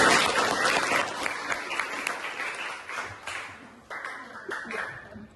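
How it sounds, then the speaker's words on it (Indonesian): Classmates in a school classroom clap for a pupil, a burst of fairly close applause that thins out into a few scattered claps and taps as it fades. "Tepuk tangan teman itu."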